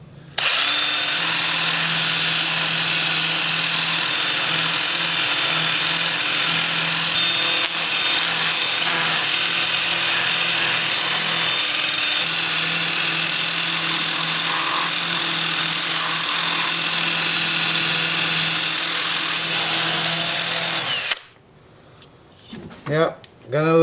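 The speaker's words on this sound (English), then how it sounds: "With the lathe spinning in reverse at about 400 RPM." Wood lathe turning in reverse at about 400 RPM while rotten, decayed wood is sanded, giving a steady loud whirring hum with abrasive hiss that runs for about twenty seconds, then stops abruptly into quiet handling noises.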